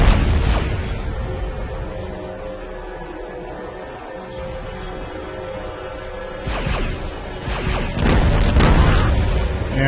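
Fallout: Tactics combat in a room full of machine gunners: a steady muffled rumble of gunfire, with heavy booming blasts and crashes near the end.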